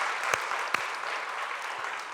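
An audience at a city's State of the City address applauds, producing a steady wash of clapping with a few louder, distinct claps near the start that then holds level.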